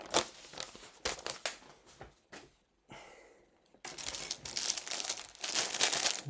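Plastic bag from a Lego 77071 Supply Llama set crinkles and rustles in bursts, with a short quiet gap midway before louder, denser crackling resumes close by.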